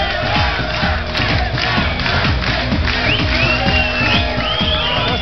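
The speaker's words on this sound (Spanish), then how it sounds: "Un aplauso para su hija de 15 años," A studio audience on a Spanish-language talk show breaks into loud, sustained cheering and applause, dense crowd noise with shouts and whoops running unbroken the whole time, close and full.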